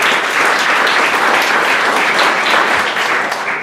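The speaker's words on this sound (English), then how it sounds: "Give a round of applause for the volunteers." A crowd at a winter carnival history talk gives volunteers a round of applause, a loud, dense, continuous roar of clapping that holds steady throughout with no speech over it.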